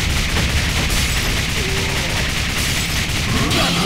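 Rapid arcade gunfire from the Deadstorm Pirates game, a dense continuous barrage of shots filling the whole moment at high volume.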